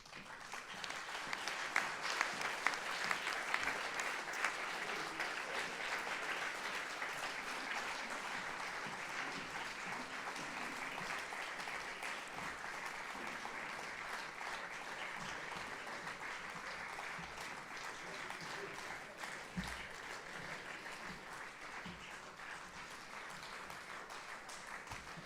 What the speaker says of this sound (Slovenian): Tale aplavz je bil seveda za vas.